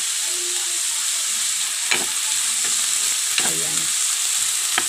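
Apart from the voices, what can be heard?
pork chop frying in a pan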